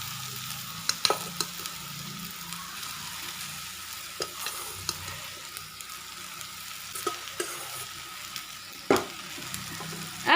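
Rice frying and being stirred in a pan for a simple South Indian rice dish, with a steady soft sizzle and scattered scraping clicks from a spoon, moderately quiet throughout with no talking.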